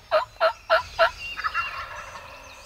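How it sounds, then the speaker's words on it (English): Wild turkey gobbling during a spring hunt in Tennessee: four loud, rapid gobbles in a row, then a fainter, trailing rattle of gobbles fading into the open outdoor background. "They were gobbling at every breath, every breath."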